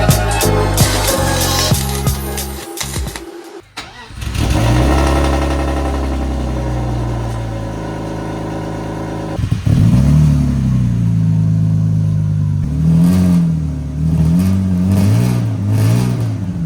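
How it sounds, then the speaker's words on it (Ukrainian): A BMW E34 engine with a loud, raw straight-pipe exhaust revs hard, drops out briefly, then settles into a rumbling idle with a few blips of throttle. "Основна задача від вихлопу виконана, він став тихішим"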